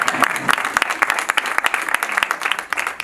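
Audience applause at the inauguration of a Maison des familles in Strasbourg, dense lively clapping from a crowd, close and loud, sustained throughout.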